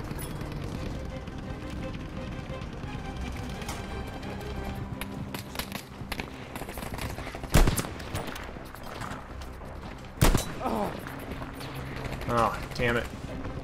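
Gunfire in the WWII shooter Battlefield V, with steady background battle noise and two loud, sharp rifle shots standing out near the middle, plus scattered distant shots.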